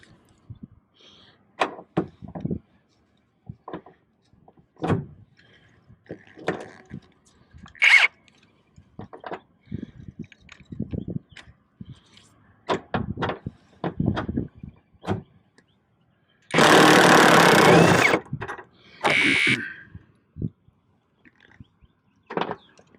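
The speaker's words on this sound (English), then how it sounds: "This is a new impact gun I bought the other day." A newly bought impact gun fires one loud, sustained rattling burst of about three seconds, followed by a shorter burst, while removing parts from a mandrel, amid scattered clanks and handling knocks in a workshop.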